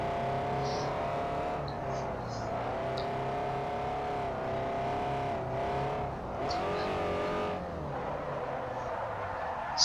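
Race car drifting on the Fujimi Kaido mountain road in Forza Motorsport 4, a steady loud engine drone with rising and falling revs and tire scrub, continuous throughout with faint talk underneath.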